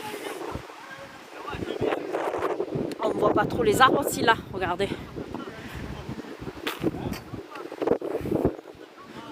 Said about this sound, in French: Il y a sacré vent là, je vais vous le dire.